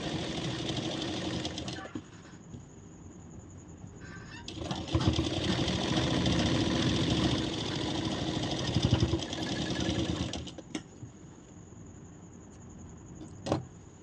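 A sewing machine stitches the main fitting seam of a princess-cut, back-neck blouse, its motor whirring in close, loud runs broken by short pauses, with a brief burst and soft handling clicks near the end.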